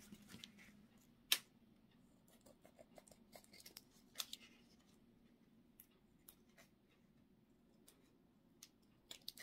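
Scissors snip off thin layers of plastic in quiet, sparse clicks and crisp cuts, with one sharper snap early and light crinkling between, all close and faint.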